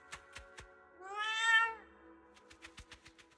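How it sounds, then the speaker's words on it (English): A chubby orange cat in Zenless Zone Zero gives one long rising meow, close and clear, set between short sharp tapping footsteps that patter before and after it. "Suddenly a chubby orange cat waddles out from the corner of the room. It looks over, meows triumphantly, and struts right past our feet."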